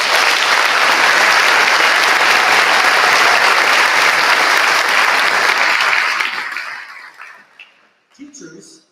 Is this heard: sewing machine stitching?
no